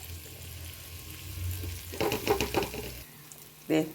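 Poomeen (milkfish) fried crisp in a pan and stirred, with a low sizzle and a cluster of louder stirring and spattering bursts in the middle, then a brief clatter near the end.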